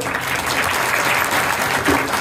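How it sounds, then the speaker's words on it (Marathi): Audience applause at a large devotional satsang gathering, a dense sustained clapping from many hands that fills the room at steady volume, with a brief voice rising near the end. "मी त्या बाबांकरता मोठ्या टाळ्या वाजवायचे"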